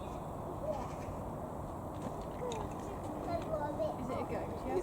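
A goat bleats a few times at a wildlife park amid steady outdoor noise, with people talking nearby over much of it.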